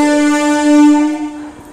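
Express train arriving at Kharagpur station, a loud sustained horn-like harmonic tone holding steady before fading into rumbling rail noise.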